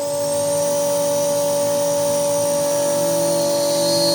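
Steady whining machining run while bolt holes are cut for the center roller of an anchor locker vacuum fixture, a constant tonal hum with bright high overtones, close and unbroken, no voices.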